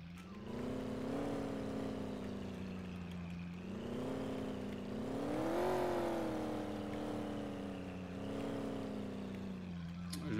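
A car engine drives steadily in Farming Simulator 19, a continuous droning hum that rises and falls slightly in pitch as it revs, with no breaks.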